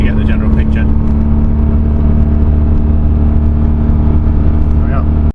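Supercharged 1999 Jaguar XKR accelerating on the road, a loud, close, steady engine rumble with a strong low drone that holds throughout before cutting off abruptly.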